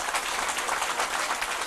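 A church congregation applauds together, a dense wash of many hands clapping at once, steady and moderately loud throughout, with no voice over it.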